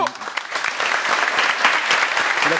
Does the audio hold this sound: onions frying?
no